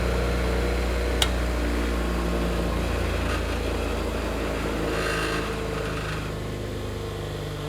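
A Jet JBG-8A bench grinder runs freely on its test spin, giving a steady, even motor hum with a faint high whine that holds constant throughout, with one brief sharp tick near the start.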